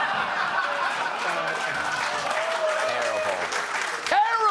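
Comedy-show studio audience applauding, a dense wash of clapping mixed with scattered chuckles and laughter, with a voice speaking over it near the end.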